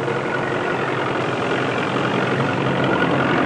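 A farm tractor hauls a four-furrow plow across a field, its heavy engine giving a steady, loud, low rumbling drone with no pauses and no voices.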